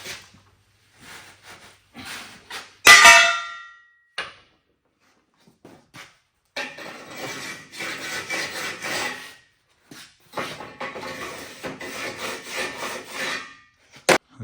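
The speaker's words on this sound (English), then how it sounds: "I finished it with a Sawzall." A Sawzall reciprocating saw cuts during a 1964 Galaxie 289-to-302 engine swap, with scattered short rasping bursts and one sharp loud hit early, then two longer stretches of steady buzzing cutting separated by a brief pause.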